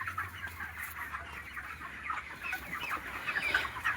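Broiler chickens 32 days old murmur and cluck together inside a poultry farm shed, a soft continuous flock chatter with scattered clucks over a low background hum.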